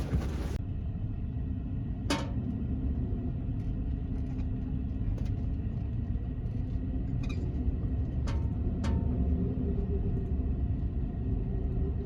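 Steady low road rumble of a car driving along while a scan tool reads its speed sensor, with occasional faint clicks and ticks over the continuous engine and tire drone.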